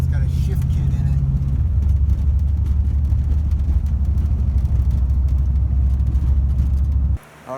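A mostly stock 1988 Ford Mustang 5.0 V8 idles with a steady, deep rumble close by, holding an even tone before cutting off abruptly near the end.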